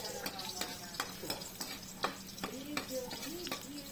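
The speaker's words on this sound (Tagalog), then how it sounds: "Ginigisa ko muna kasi yan." Onions sauté in hot oil in a pan for coconut squash with crabs, making a close, soft, continuous sizzle with repeated stirring scrapes and clicks and a little low voice underneath.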